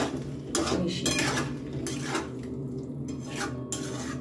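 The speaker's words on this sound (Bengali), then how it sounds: "এবারেও ভালো করে আমি এটা মিশিয়ে নেব।" A spoon scraping and clinking against a pot while stirring a dum aloo mixture of small new potatoes, with repeated metallic strokes over a faint low hum.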